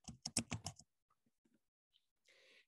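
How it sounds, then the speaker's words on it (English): A short quick burst of typing on a computer keyboard, several rapid clicks close up, then a few sparse faint taps and a soft rustle. "let me go back and type in"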